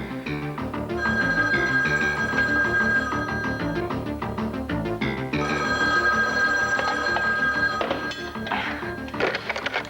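A telephone rings in bursts, with a steady electronic tone sounding twice over a dense background of music and other sounds, from a 1987 drama scene.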